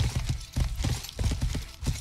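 Horse hooves clip-clop in the medieval survival game Life is Feudal: Your Own, a steady trotting rhythm of distinct thuds about every quarter second, close and clear with no talk over it.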